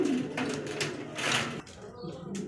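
Pigeon cooing from High Kaleti show pigeons kept for sale, soft low calls mixed with rustling and background voices in a busy, noisy space.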